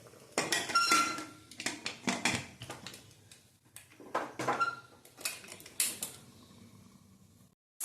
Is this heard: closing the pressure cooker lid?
yes